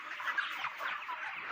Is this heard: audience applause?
no